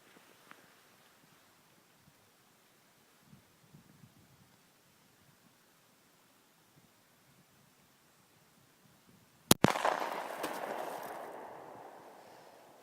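After a quiet stretch with a few small knocks, a single sharp report from a Glock 19 firing 124-grain 9mm home-defense rounds at a milk jug rings out, followed by a noisy, fading spray.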